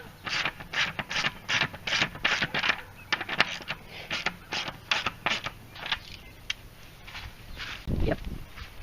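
Rapid ratcheting clicks from a wrench loosening a bolt on a rubber tractor-tire horse feeder, a steady close run of sharp mechanical ticks with a brief thud near the end.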